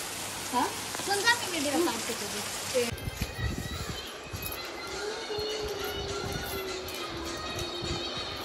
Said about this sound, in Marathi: इकडे पाऊस पडतोय